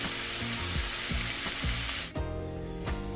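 Bacon for a grilled chicken BLT sizzles loudly in a pan, a dense hiss broken by regular rhythmic scraping, then the hiss abruptly drops to a quieter, softer fry for the final second.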